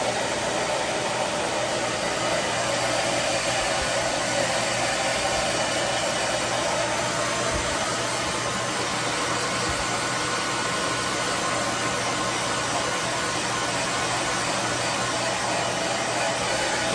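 A hairdryer blows on a freshly bathed chicken's wet feathers, giving a steady, close, continuous rushing whoosh with no break and no talk over it.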